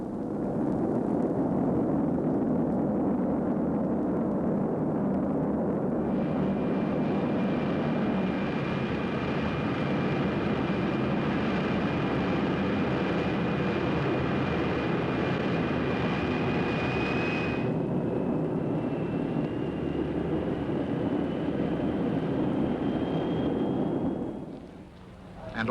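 A jet aircraft refuelling in flight gives a steady, loud, continuous engine roar with a rising whine layered on top partway through, then the noise cuts away sharply at the end.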